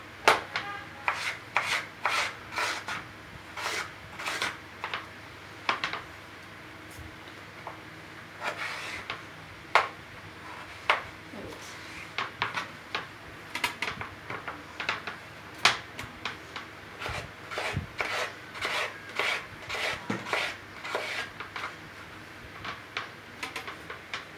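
A potato is sliced paper-thin for a mixed fry, giving a fast run of crisp, sharp knife taps on a board, close and fairly quiet, in a steady rhythm with no talking.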